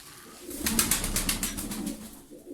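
A bird held close beats its wings in a quick burst of rhythmic flaps, about a second long, loud and near, then settles.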